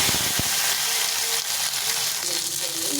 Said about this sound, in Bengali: দিয়ে আমি এখন সিমটাকে ভেজে